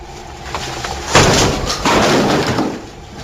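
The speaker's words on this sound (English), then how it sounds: "we're going to use the dynamic hammer" A dynamic hammer, a heavy manual breaching ram, strikes a door during an entry drill, giving one loud impact that crashes in and then a sustained rattling burst of noise, close and without speech.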